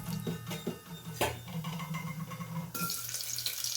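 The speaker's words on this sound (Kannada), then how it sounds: "ಸಾಸಿವೆ ಹಾಕ್ತಾಯಿದ್ದೀನಿ" Mustard seeds hit about four spoons of hot oil for a ridge gourd curry, crackling with scattered soft pops before settling into a steady sizzling hiss, faint and close.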